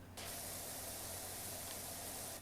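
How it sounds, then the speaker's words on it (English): Steady, loud broadband hiss of a pressure washer spraying in PowerWash Simulator, a continuous jet that starts abruptly and holds without a break. "I can just have it automatically spray"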